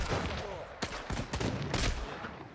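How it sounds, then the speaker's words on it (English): Soldiers firing in a video game battle, a few sharp shots cracking out in quick succession at moderate distance against a busy background. "These two take some pot shots."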